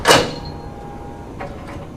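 A drum unit slides back into a RISO RZ printer, landing with one sharp, close clack right at the start, followed by a couple of faint clicks as it settles.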